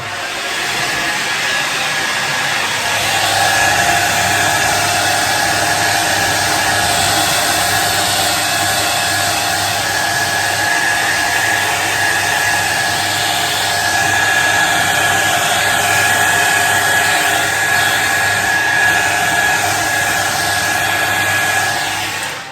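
A hair dryer blows on a damp shaving brush after washing, a loud steady whine with a constant tonal hum, running alone for the whole stretch.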